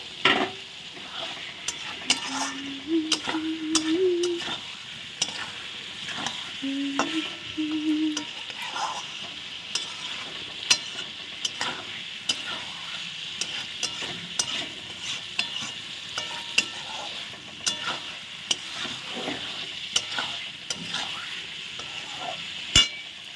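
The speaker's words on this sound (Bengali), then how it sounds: "ফুলকপিটা দেওয়ার পরে আরও কষিয়ে নেব" Cauliflower fries in plenty of oil while a utensil scrapes and stirs it around a pan, giving a steady sizzling hiss broken by frequent clicks and scrapes, close and continuous for over twenty seconds. No one talks.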